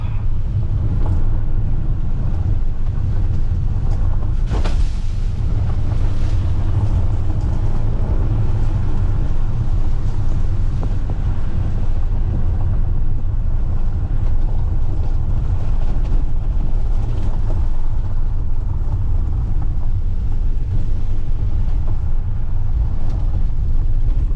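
A 2022 Toyota Venza driving fast on a gravel forest road, heard from inside as a loud, steady low roar of engine and tyre rumble with wind noise throughout and no talking.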